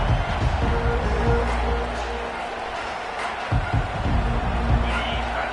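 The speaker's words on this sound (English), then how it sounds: "This crowd bringing an ear-splitting welcome to their visitors." A football stadium crowd roars in a steady, dense wash of cheering and noise at a Tennessee versus Georgia game, with a commentator's voice running over it throughout.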